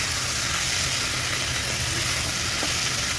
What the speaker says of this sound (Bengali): এবার আমি ভেজে রাখা সবজিগুলো দিয়ে দেবো।